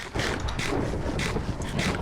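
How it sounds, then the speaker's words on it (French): Heavy rain from a thunderstorm in the Minecraft video game: a loud, steady, broadband hiss with gentle swells, continuous for about two seconds with no voices over it. "C'est énervant cet orage."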